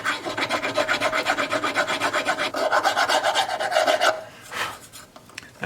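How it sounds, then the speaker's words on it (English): A metal file rasps across an ebony fingerboard on a fiddle's maple neck, loud and close in steady back-and-forth strokes that pause near the end before a brief final scrape. "So I can make the ebony fingerboard and the maple neck match up with this file much better."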